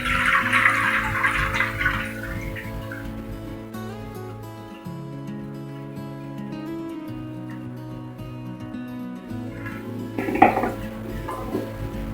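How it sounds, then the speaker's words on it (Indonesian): Coconut milk from one coconut is poured into a wok for fish curry, a soft liquid splash and clatter of pan and utensils at the start and again near the end, with a steady low hum between. "Terus kita masukin santannya ya bun, 1 buah kelapa tadi,"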